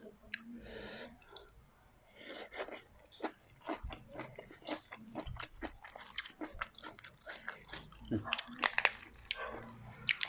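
Close, crunchy chewing and biting of crispy food, a rapid irregular series of crisp crunches with breathing between bites.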